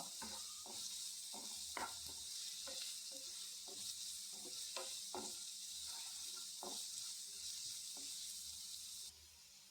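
Onions sauté in a pan with a soft, steady sizzle, broken by frequent light scraping stir clicks, quiet and close, with no talking.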